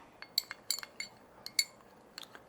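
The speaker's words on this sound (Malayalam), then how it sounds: "വെളിച്ചെണ്ണയും കൂടി ഒഴിച്ചിട്ട് നന്നായിട്ടൊന്ന് മിക്സ് ചെയ്യുന്നു" A utensil stirring coconut oil into natural herbal hair dye powder in a bowl, making faint, irregular clinks and taps against the bowl, sparse and quiet with no voices.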